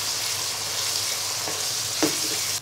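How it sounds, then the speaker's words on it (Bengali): Ginger paste, cumin powder, chili powder and salt fry in a pan with a loud, continuous sizzle, broken by a scrape of a spoon near the end before it cuts off abruptly. "এবার মশলাগুলো নেড়ে নিব"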